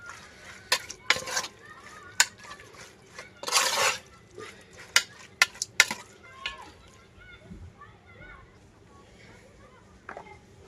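Beef being mixed by hand with spices for bhuna khichuri, giving soft wet squelches and a few sharp clicks of utensils against a bowl, close up, with quieter pauses between.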